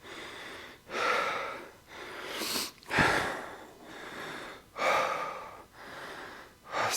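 Heavy breathing from someone catching their breath after a workout exercise, with loud, close, rhythmic inhales and exhales repeating about every second and a half, with no talking.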